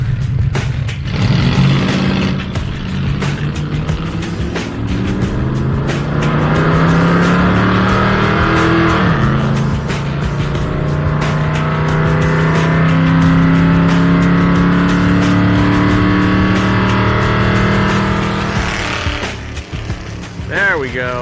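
Drag car launching off the line at higher RPM and pulling hard, a loud roaring engine climbing through the gears for most of the stretch before easing off, with people talking underneath.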